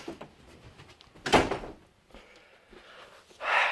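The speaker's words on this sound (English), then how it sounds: "hold on a minute, I gotta shut the door" A door is pulled shut with one sharp, fairly close thud in an otherwise quiet room, followed by faint shuffling and a brief rustle near the end.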